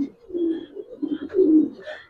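Giribaz silver pankhi pigeons cooing in soft, rolling low coos, close by and fairly steady, with two swelling phrases and no talk over them.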